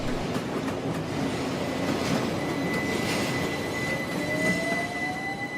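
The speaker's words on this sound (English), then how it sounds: "Trains leave Fenchurch Street under a covered way." A train rolls along the rails with a steady rumble and faint rhythmic clatter, a thin wheel squeal rising toward the end; no voices.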